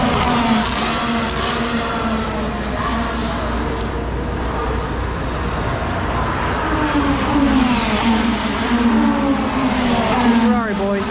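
Formula 1 cars at night during Las Vegas Grand Prix qualifying, a continuous high-revving engine roar with pitch sweeps as cars pass, under steady commentary talk.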